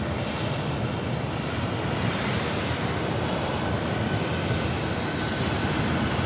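A 22-year-old Boeing 757-300 jet arriving at LAX from Houston, Texas, gives off a steady, loud, broad engine roar that holds without a break, with no voices.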